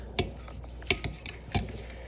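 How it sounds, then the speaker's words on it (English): A spoon clinking against a bowl while snow ice cream with maple syrup is stirred, three or four short, faint taps spaced apart in a quiet room. "Now stir it all together."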